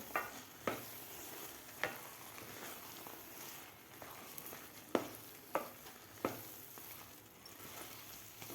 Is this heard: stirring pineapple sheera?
yes